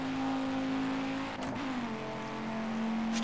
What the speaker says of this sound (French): Puis franchement j'aime bien les bruits des voitures dans le jeu.